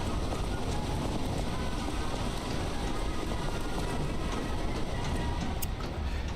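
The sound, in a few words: tram car running in Lies of P video game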